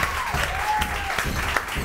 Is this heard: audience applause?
yes